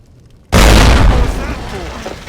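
A chain of dynamite sticks laid across the ground and a long table explodes in the video game Fallout: New Vegas, a sudden loud boom after a quiet moment, then a rumbling blast that slowly decays.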